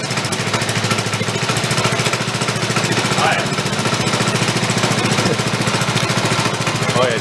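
A small engine on a home-built engine-powered wagon with a bent, wobbling axle chugs at close range with a rapid, steady putter throughout, no voices heard.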